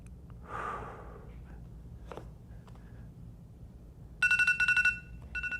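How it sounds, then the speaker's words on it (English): An iPhone's default alarm tone beeps in quick repeated pulses near the end, after soft breathing and faint rustles. "That's, I think, the default alarm on the iPhone."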